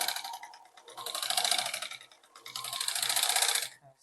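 Electric sewing machine stitching a straight seam joining parts of a ladies' salwar, two bursts of rapid mechanical running separated by a short pause, close and fairly loud.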